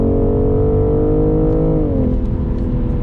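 A BMW B58 engine holds a loud, steady, close drone inside the car, then its pitch drops smoothly partway through as the revs ease off, with no voices.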